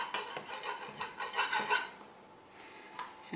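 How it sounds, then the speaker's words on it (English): A big kitchen knife scrapes and saws through excess pie crust at the edge of a pecan pie dish, a run of close rasping strokes in the first half that fades to quieter scraping. "I'm just going to grab a knife and cut off the excess"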